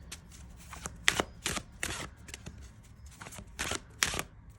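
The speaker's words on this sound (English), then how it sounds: "Let's see how they shuffle. I knew these were gonna shuffle beautifully." Tarot cards riffled and shuffled in a series of quick, crisp bursts close by, roughly six flurries over a few seconds with brief pauses between.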